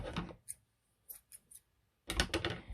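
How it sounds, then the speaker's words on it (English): Scissors snip through crochet yarn, giving several sharp, close metallic clicks spaced apart in quiet, then a longer burst of rustling cutting and handling noise at the end. "So let's cut our yarn."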